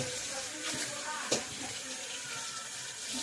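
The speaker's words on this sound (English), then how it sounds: "Let me just rinse out this bowl" A small bowl is rinsed under a running kitchen tap: a steady close splash and rush of water with a sharper clink or splash partway through, continuing without pause.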